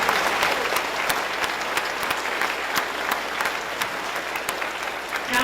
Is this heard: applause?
yes